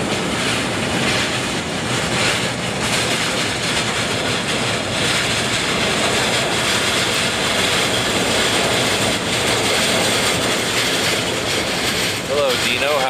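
A Delta jet airliner taxis on the reef runway at Honolulu airport, producing a loud, continuous broadband jet roar that stays steady the whole time without any clear breaks.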